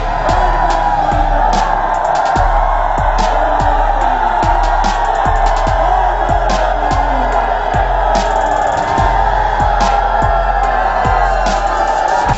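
A large outdoor crowd at Bhupinder Hooda's political rally roars continuously, with loud overlapping cheers, whoops and yells and a steady rhythmic thumping underneath throughout.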